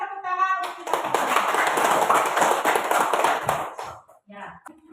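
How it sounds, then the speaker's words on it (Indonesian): Audience applause from a classroom group at an Indonesian teacher-training lesson, a dense burst of clapping lasting about three seconds, then fading, with speech before and after. "Berikan tepuk tangan untuk kita semua"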